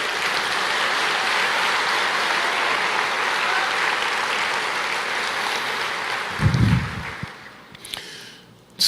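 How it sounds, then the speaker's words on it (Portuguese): A church congregation applauds during a sermon, dense sustained clapping that rolls on for several seconds before thinning out, with a few louder bumps near the end. "Aleluia, você pode aplaudir o Senhor?"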